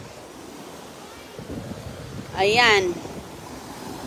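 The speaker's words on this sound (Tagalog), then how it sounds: "Ito ang dagat." Sea waves wash steadily onto a shore of clear water under a broad, windy rush, with a brief spoken word near the end.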